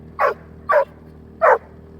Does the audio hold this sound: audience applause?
no